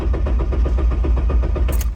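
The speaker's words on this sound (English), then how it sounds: "So it obviously worked because the car will not start." A car engine cranks over steadily without catching, its injectors switched off, giving a loud, even, rapid rhythmic chugging for two seconds that cuts off near the end.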